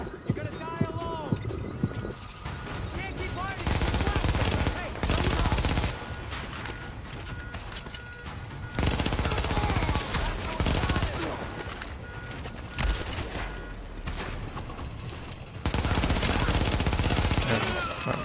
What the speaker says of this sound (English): Oh my god, small arms fire.